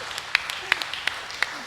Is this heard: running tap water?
no